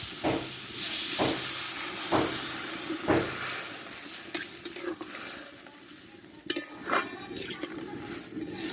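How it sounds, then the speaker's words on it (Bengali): Water goes into a pan of potatoes fried in spices, bringing a loud hissing sizzle with rhythmic stirring scrapes that recur about once a second, then easing into a quieter bubbling fry. "এবার আমি অল্প একটু জল দিয়ে দেবো দেখো জল দিয়ে দেবো"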